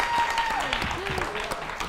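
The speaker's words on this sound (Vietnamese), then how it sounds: "Dành một tràng pháo tay khen tặng anh." A studio audience at a Vietnamese talk show bursts into applause, a dense wash of clapping with a voice briefly audible over it.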